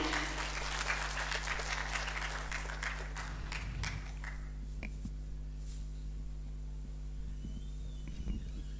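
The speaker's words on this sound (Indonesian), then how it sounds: "Berikan tepuk tangan" Audience applause in a hall at a formal gathering with a minister and ambassadors, steady clapping running throughout over a low electrical hum, fading slightly toward the end.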